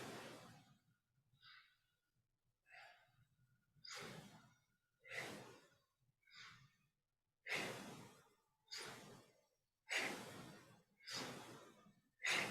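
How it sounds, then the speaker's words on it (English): Alternate nostril breathing in a yoga class: slow, soft nasal inhales and exhales, close and alone, each breath a separate airy swell with quiet pauses between, about ten in a steady rhythm. "Inhale left, exhale right."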